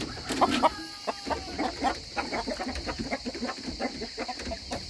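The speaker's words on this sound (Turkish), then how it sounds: "Ama horoz var orada." Chickens and a rooster cluck steadily inside a coop, a dense close chorus of short clucks with a few louder calls early on, over a faint steady hum.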